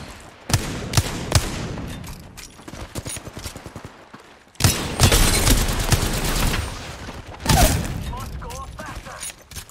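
Bursts of automatic gunfire and weapon reloading in the shooter game Apex Legends, loud and close, with rapid fusillades broken by mechanical clicks and thumps, and a voice speaking over the action.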